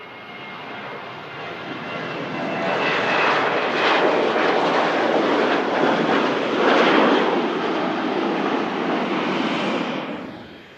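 Ryanair airliner bound for Billund at Manchester Airport, jet engine roar swelling in from a distance, peaking loud for several seconds, then fading as it passes, with no voices.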